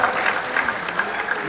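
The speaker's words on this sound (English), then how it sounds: "But still, a big round of applause." Audience applause at a hair fashion and creativity celebration event, a steady wash of clapping from a crowd, moderately loud and continuous with no voices standing out.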